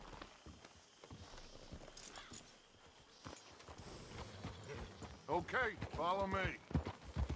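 Horse hooves clip-clop in Red Dead Redemption 2, a steady trotting rhythm heard throughout beneath spoken dialogue, growing louder near the end.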